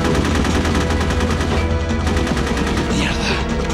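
Loud, continuous automatic gunfire from the video game Metal Gear Solid, a steady rapid-fire rattle filling the whole stretch without pause.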